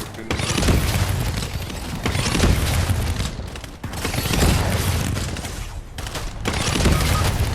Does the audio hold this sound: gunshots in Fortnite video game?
yes